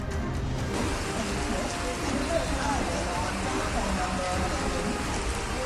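Heavy monsoon rain in Mumbai, a dense continuous hiss of downpour filling the whole stretch at steady loudness, with broadband splashing and no clear breaks.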